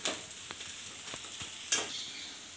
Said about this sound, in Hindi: जैसे हम लोग अदौड़ी को भूनते हैं उसी तरीके से इस साग को भी हमको भूनना पड़ता है